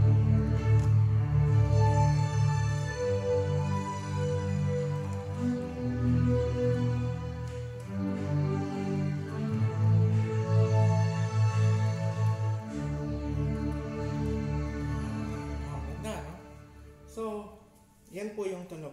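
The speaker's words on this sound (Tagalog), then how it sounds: "Yan po yung tunog ng strings niya." A Clavinova digital piano on its strings voice plays sustained, layered chords in a slow progression, full and close, with no speech over it.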